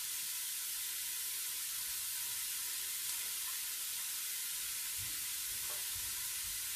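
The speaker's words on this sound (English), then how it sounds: "That's our garlic cooking" Garlic sizzling steadily in a pan alongside tomatoes for a keto tomato sauce, a loud continuous hiss close up with a couple of faint stirring knocks near the end.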